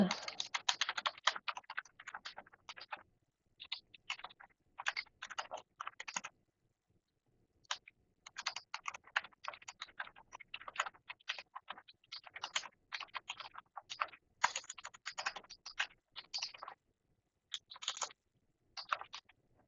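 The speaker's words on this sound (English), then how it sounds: "Say I wanted to type something a little bit longer, you can do a full message here as well." Fast, crisp tapping on a computer keyboard comes in bursts of close clicks with brief pauses between runs, sounding quiet and near.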